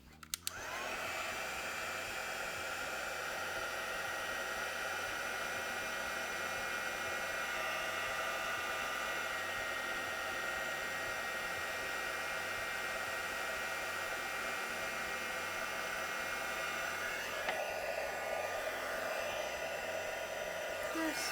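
Heat tool blowing steadily over embossing powder on stamped card, a constant loud whooshing hum that runs nearly unbroken from start to end with a small shift in tone near the finish.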